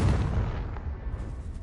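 A Confringo spell blast in Hogwarts Legacy, a single heavy booming explosion that hits hard at once and rumbles away over a second and a half.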